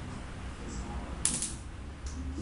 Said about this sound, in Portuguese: Ligar o fogo.